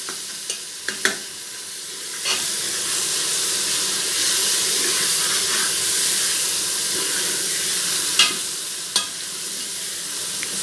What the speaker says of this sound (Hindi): तो थोड़ा सा फ्राई कर लेते हैं प्याज।